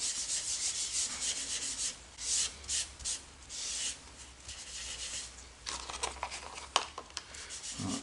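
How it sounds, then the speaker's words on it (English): Scotch-Brite pad rubbing Rubio Monocoat oil into a wooden sample board, soft close scrubbing strokes in repeated bursts, quiet and rhythmic with no talk. "You soak some of the stuff up, rub it in, go to the edge there, give it a nice thing."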